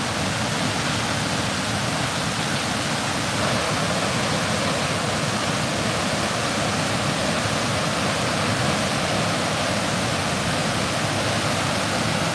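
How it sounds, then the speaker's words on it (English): Heavy rushing water pours down in Hilo, Hawaii during a tropical storm, a loud, steady, dense roar like a waterfall that continues without a break for the whole stretch, with no voices. "let you folks hear the power of the water coming down"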